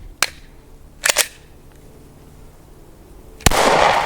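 A Glock pistol fires during a torture test, with a few sharp cracks close by, one a quick double, followed by a louder shot that tails into a noisy burst.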